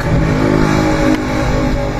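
A 9th-generation Toyota Corolla Altis engine revs loud and close, a steady mid-pitched roar that holds for about two seconds with a faint clatter, the car's worn engine mounts having let it shake.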